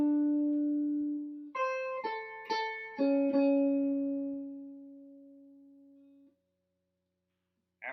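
An instrument plays the second phrase of a song as a slow beginner's line, a few clear sustained notes with a long held final tone that fades out, close and alone.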